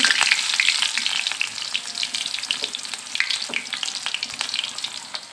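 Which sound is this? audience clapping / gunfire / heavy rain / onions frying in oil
onions frying in oil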